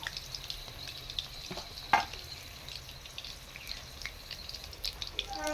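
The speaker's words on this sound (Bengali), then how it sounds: "সেই জন্য বন্ধুরা একটু হালকা তেলে ভাজবেন" Prawn koftas frying in a little oil, a continuous soft sizzle and crackle close by, with one sharper clink midway and faint spatters toward the end.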